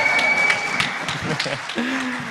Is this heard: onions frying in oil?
no